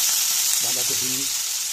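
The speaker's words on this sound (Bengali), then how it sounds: "বাঁধাকপি ফুলকপি গাজর বিট সব একসাথে মিশ্রণ সব ছেড়ে দিলাম। ভাজাটা হবে।" A mix of cabbage, cauliflower, carrot and beetroot fries in oil, giving a close, continuous loud sizzle, with a brief voice underneath midway.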